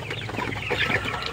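Poultry chickens on a farm cluck continuously and close by, several birds overlapping in a steady busy chatter with no talk.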